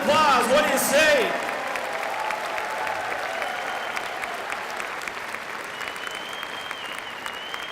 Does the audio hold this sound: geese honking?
no